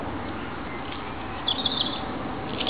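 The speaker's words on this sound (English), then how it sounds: "Can you hear the birds?" Birds chirp in short bursts over a steady outdoor hum in a park, a few clear calls standing out midway through before fading back into the background.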